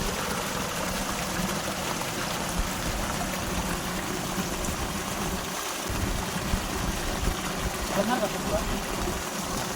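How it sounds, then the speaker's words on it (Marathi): Water running steadily from a pipe beside a flooded Konkan river, a constant close trickling rush heard under people talking. "पाईप असता आणि पाणी येतं"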